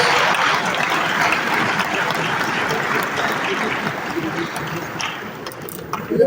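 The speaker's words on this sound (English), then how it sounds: "Clap one more time for Lagos State." A conference audience at a Lagos real estate event claps loudly and continuously, a thick steady roar of applause that holds for several seconds.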